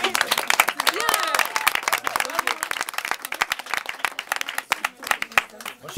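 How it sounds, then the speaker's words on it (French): A studio audience at a French quiz show claps loudly and steadily, with crowd voices and a brief vocal cry woven through the crisp, sustained applause. "On peut les applaudir"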